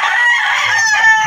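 A hen in a coop floored with wood shavings clucks and calls repeatedly, close and fairly loud, with a short crowing-like trill alone in the clip.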